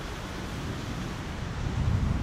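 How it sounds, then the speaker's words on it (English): Strong wind at Amsterdam Schiphol Airport blusters into the microphone, a low rumbling roar with gusty buffeting that grows slightly heavier toward the end. "there is still pretty much wind blowing, and it's blowing at a cross angle of the runway heading"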